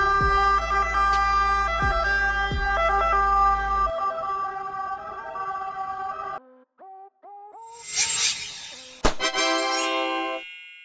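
Italian ambulance siren, a Fiat Ducato, Mercedes-Benz Sprinter or Volkswagen Crafter, sounding in short stepped two-tone bursts after a stretch of music, with a loud tonal wail near the end.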